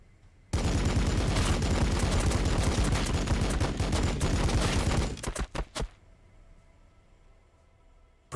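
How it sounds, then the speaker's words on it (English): Dense, continuous gunfire volley from a Warhammer 40,000: Battlesector battle between Blood Angels and Tyranids, loud and sustained for about five seconds, then a few trailing shots before dropping to quiet ambience. "Firing on the target."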